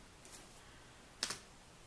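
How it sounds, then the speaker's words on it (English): Wire cutters snip chenille pipe-cleaner wire into short lengths for craft spider legs. A faint tick comes first, then one sharp crisp snip with a quick second click, in an otherwise quiet room. "I'm just going to cut that with my wire cutters"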